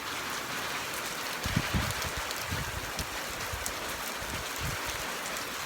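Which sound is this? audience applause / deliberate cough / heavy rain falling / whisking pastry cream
heavy rain falling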